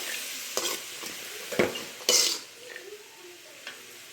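Chopped onions and green chillies fry in a pan for egg bhurji, a soft sizzle running under a few scrapes and clinks of a spoon stirring against the pan, close and fairly quiet.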